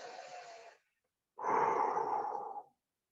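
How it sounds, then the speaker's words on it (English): A slow inhale followed by a pause, then a long, loud, breathy exhale lasting over a second, close and alone with no other sound. "Take a deep breath and exhale."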